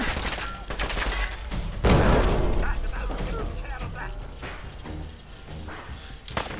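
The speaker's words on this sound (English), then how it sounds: "Grenade!" A grenade blast amid gunfire in the Fallout 4 video game, Vault 114 mission: a heavy booming thump near two seconds under a steady stream of shots and clatter, with someone talking over it.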